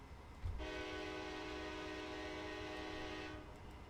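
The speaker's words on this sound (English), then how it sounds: "if I go a little distance away and I honk the horn" A GE P42DC locomotive horn in a Train Simulator game sounds one sustained chord blast heard from a little distance, steady for about three seconds before cutting off, faint rumble underneath.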